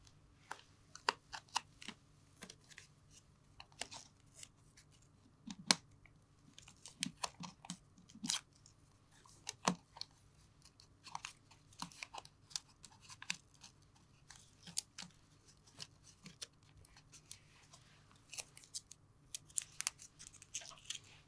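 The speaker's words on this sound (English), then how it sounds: "Use tape to cover the edges." Tape is pulled and torn to cover the cut edges of a plastic bottle top set as a funnel in a homemade rain gauge, giving faint, scattered crackles and short rips throughout with no talking.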